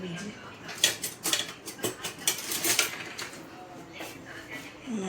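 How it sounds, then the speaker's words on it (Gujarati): A spoon clinks and scrapes against a dish while cheesecake cream is mixed, producing a quick series of bright metallic taps with brief pauses between them. "ચમચી લઈએ બીજી."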